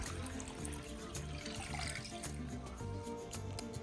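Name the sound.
pouring two litres of water into a large bowl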